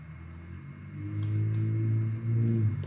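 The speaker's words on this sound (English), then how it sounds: "a loud car drove past" A loud car passing outside, heard as a low engine rumble that swells and holds over a few seconds, somewhat distant beneath the room's background.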